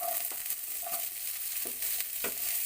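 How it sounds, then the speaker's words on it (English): Onion sautés for adobong pusit, a soft continuous sizzle broken by several distinct spatula scrapes against the pan. "And just saute until it gets translucent."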